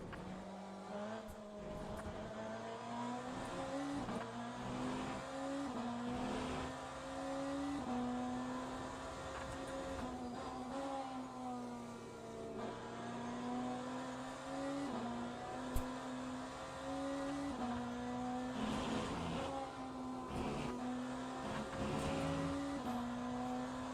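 A BMW hypercar in a racing video game laps Le Mans with a steady, loud engine drone that climbs and drops through repeated upshifts and downshifts, alone without voices throughout.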